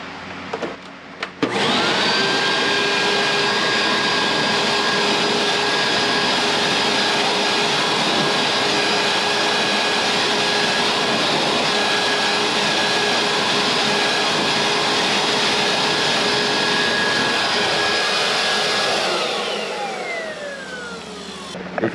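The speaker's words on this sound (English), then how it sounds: "we're gonna go ahead and blow that out too." An air blower roars steadily and loudly for about twenty seconds, cleaning out a BLACK+DECKER 10,000 BTU portable air conditioner clogged with pet hair, then winds down at the end.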